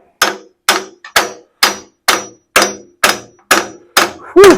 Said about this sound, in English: I thought maybe some light taps would do it, but yeah, they're not.